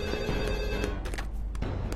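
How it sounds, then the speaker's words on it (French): A home telephone bell rings in a burst of rapid, loud metallic trills heard up close indoors, with no voices. "si le téléphone de la maison sonnait, tu devais répondre"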